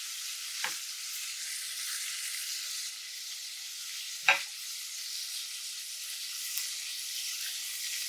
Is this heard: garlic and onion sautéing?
yes